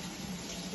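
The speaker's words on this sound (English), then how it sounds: "we're going to get lukewarm water here from the sink" A kitchen sink tap runs lukewarm water in a steady, broad hiss, close and continuous for under a second, with no talking over it.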